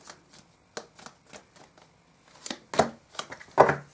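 Tarot cards being shuffled and drawn, soft close papery flicks and slaps in irregular bursts, growing louder near the end.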